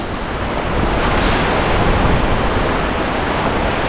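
Strong water current rushes loudly and steadily on a fishing outing, a dense broadband roar of flowing water with some wind buffeting the microphone and no talk.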